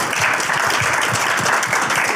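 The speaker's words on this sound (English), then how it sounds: "one more round of applause for the cast and crew of Stream, everybody" A convention crowd at a horror panel claps for the cast and crew, a short, loud, continuous burst of dense applause.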